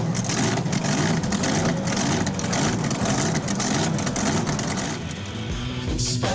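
Racing powerboat engines on Manukau Harbour in Auckland during a 2003 race, a loud sustained droning roar of several motors at high revs, steady throughout and easing slightly near the end.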